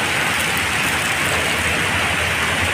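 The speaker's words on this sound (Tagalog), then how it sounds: "Ang daming ice, umuulan na ng ice." Ice hail pouring down in Abha, Saudi Arabia, a steady dense hiss of pellets striking surfaces without pause, loud and continuous with no talk.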